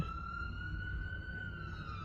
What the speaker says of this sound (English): Actually, it's the ambulance.